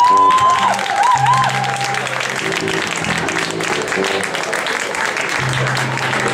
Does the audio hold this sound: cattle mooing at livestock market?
no